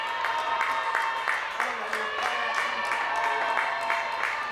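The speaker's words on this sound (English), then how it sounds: "the Raiders getting loud cheering on their defense" Crowd cheering at a 2023 Gridiron NSW championship American football game, Raiders fans roaring for their defense on a third down; a dense, steady wash of voices and claps holds at an even level throughout.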